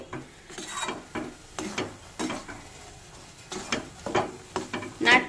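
Amla chyawanprash, made from amla and sugarcane, stirred in a pan over a medium gas flame, giving repeated scraping and stirring strokes with faint sizzling between them.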